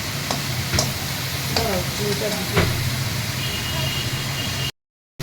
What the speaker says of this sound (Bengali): আবার এটাকে একটুখানি ভালো করে সাঁতলাবো